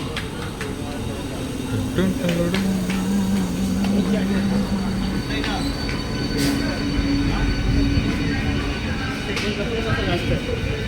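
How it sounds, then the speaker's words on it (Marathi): A train arrives at Titwala station, its wheels squealing and rumbling steadily as the cars roll in close by, with the sharp high screeches rising over a constant rail clatter and some voices in the background. "आपण टिटवाळा स्टेशनला होत आता आणि ट्रेन येतेच आहे समोरून"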